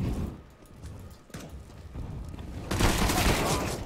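Gunfire in a tactical shooting video game, a sustained loud burst of shots coming in near the end after scattered quieter sounds, under players talking.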